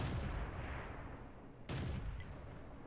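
An M44 self-propelled artillery gun firing in World of Tanks, a single sharp loud boom midway that stands out against a quiet, low rumbling background, with no talk.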